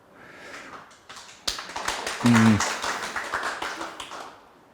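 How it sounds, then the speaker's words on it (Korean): Scattered applause from a seminar audience of company executives, a few close, sharp claps that swell briefly and then fade, with a voice heard partway through. "대표님들이 박수까지 쳐주시고"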